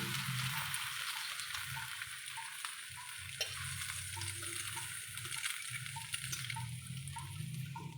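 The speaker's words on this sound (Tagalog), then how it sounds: "Tapos saka natin siya ilalagay sa kawali." Bread soaked for French toast frying in a hot pan, a steady close sizzle with crackling pops throughout, running alone without talk.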